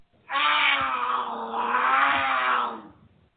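A big cat such as a cougar lets out one sustained, rough growling roar of about two and a half seconds, loud and close, with no other sound around it.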